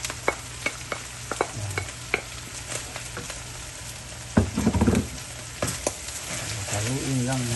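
Lechon and bamboo shoots being stirred in a hot pan for adobong labong, a loud sizzle with repeated sharp scrapes and clatters of a spoon against the pan, close up and uneven.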